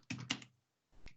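Typing on a computer keyboard, a quick cluster of close key clicks followed by a brief pause and another pair of keystrokes, crisp and near with no voices.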